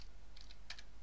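A few quick, light keystrokes on a computer keyboard, close and quiet, land in two small clusters with no talking.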